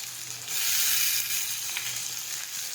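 Chopped chillies, onions and tomatoes hit hot oil in a pan, bursting into a loud, steady hiss that swells after a moment and holds close and continuous to the end.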